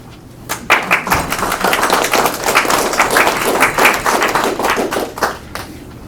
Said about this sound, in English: And I think y'all need to give yourselves a round of applause because you deserve it.